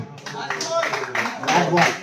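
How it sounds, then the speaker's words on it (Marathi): Applause for the Shivshakti team at a local cricket match, a couple of seconds of scattered, close hand clapping from a small crowd, mixed with voices and commentary. "टाळ्या वाजवायच्या शिवशक्तीसाठी"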